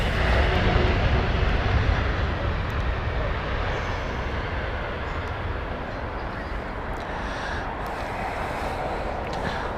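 Aircraft engine roar on a busy taxiway at Heathrow Airport, a steady loud rumble lasting throughout, heaviest at the start and easing slightly, with faint talk underneath.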